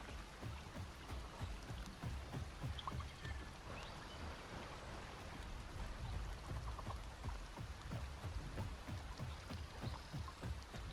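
Rain in the dinosaur survival game Path of Titans patters in a dense, steady hiss with scattered drips, soft and continuous, with no voices.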